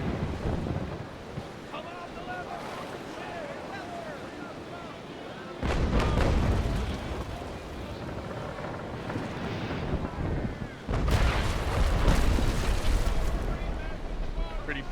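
Heavy naval cannon fire from sailing warships in the game Naval Action, with square-rigged and fore-and-aft ships. Deep booming blasts hit hard around the middle and again near the end, over a steady windy, ocean-like rumble.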